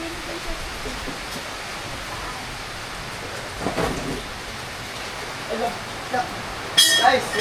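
Rain falls steadily outdoors as a broad, even hiss, with a few louder rumbling swells that suggest distant thunder, and a sharp clattering burst near the end.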